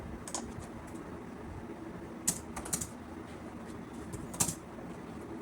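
Someone types C code on a computer keyboard, with scattered key taps and a few louder clustered strokes over a quiet room hum.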